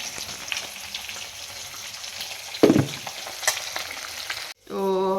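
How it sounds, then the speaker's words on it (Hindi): Fish frying in a pan, a steady soft sizzle with a brief clatter of stirring partway through, close and alone, ending with a short tonal sound. "मेरा जो मछली फ्राई करके लगभग हो चुका है।"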